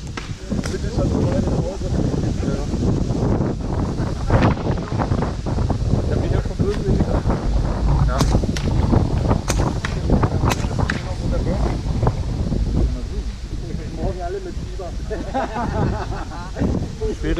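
Wind blows across an outdoor paintball field as a steady, loud broadband rush buffeting the microphone throughout, with scattered sharp pops and people talking over it.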